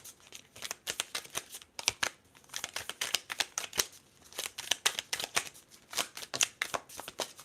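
Tarot cards being shuffled by hand, a steady run of crisp riffling and flicking bursts with brief pauses between, close and alone with no talking.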